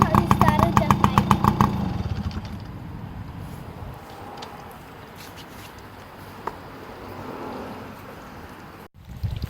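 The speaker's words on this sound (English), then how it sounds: "That's how you started the bike." Small 2004 Honda CRF 80 dirt bike engine firing up close by, a rapid popping burst for the first two seconds that settles into a quieter, low idle under background noise.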